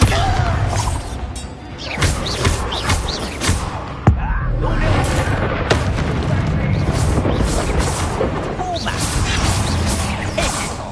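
A Bombarda blasting spell in a Harry Potter video game bursts with a heavy boom and crash, followed by thuds and debris amid dense game effects, with faint talk now and then.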